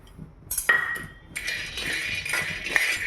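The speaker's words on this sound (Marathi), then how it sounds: "थोड्याशा मंद आचेवरतीच भाजून घेऊया" Peanuts dry-roasting in a pan over low heat, with irregular metallic clinks and taps and light rattling as the nuts are stirred against the pan, close and moderately loud.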